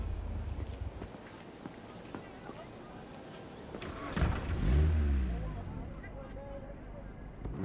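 A car in Cyberpunk 2077 drives along with a low rumbling engine, surges into a louder revving swell midway, then eases off, with speech and wind noise around it.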